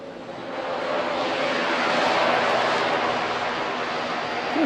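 A jet aircraft roars loudly and steadily at an air show, a broad rushing engine noise that swells slightly then holds, with no talking.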